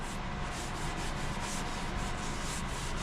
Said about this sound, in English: So just a nice, comfortable RPM on the lathe, and just start working that in.